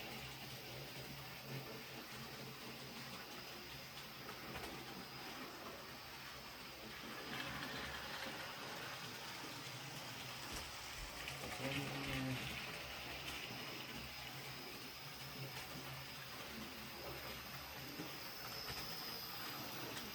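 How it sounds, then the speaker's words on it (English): Continuous rumbling of a Hornby model locomotive running along a track, a steady mechanical drone with faint rattling that swells slightly midway, no talking. "So far the locomotive seems to be running well."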